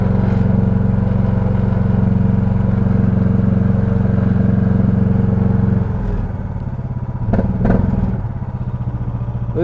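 Small machine engine idling steadily at close range during a 500-hour service, a loud constant rumble that dips to a lower running note partway through, with a few brief clanks near the end.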